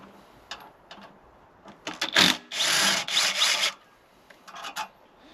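A power drill with an 8mm socket on a quarter-inch adapter, set to maximum torque, backs a bolt out of a scrap 50cc scooter, giving a few short whirring bursts and then a sustained loud grinding run, with scraping rattles before and after.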